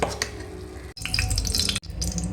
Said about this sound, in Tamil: இப்போது மீனை வறுத்துடலாம்